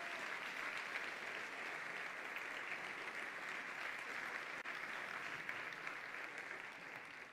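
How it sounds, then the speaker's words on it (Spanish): An audience at a sports gala in Béjar applauds the authorities present, a steady wash of many hands clapping at an even level, heard from a distance and fairly faint. "me gustaría que le diéramos un aplauso también a las autoridades que están aquí presentes"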